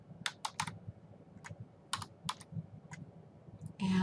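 Someone typing on a computer keyboard nearby, clusters of quick key clacks with short pauses between them, with a brief rustle or bump at the end.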